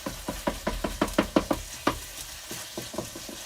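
Vegetables and beef sizzling in a hot pan for cactus tacos, a steady frying hiss under a run of rhythmic knocks and scrapes from stirring, close and fairly loud with no talking.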